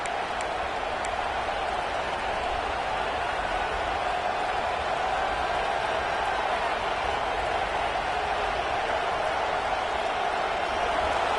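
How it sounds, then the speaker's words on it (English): Football stadium crowd roaring continuously during a game, a dense, steady wash of voices with no letup from start to finish. "And wow, listen to this crowd noise. This stadium is vibrating."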